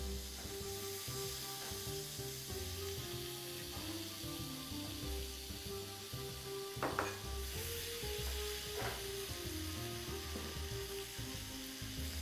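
Sliced onion fries in half a stick of Numar margarine. It gives a steady, moderate sizzle with occasional light stirring scrapes over a constant tonal background, and no voices.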